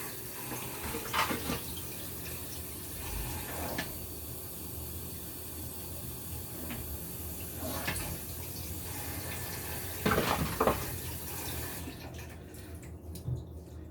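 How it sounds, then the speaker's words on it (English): Water runs into a pan of browned Oktoberfest pork shank (Schweinshaxe), a steady soft hiss and trickle with a few brief louder splashes, fairly quiet and alone. "And add a little water."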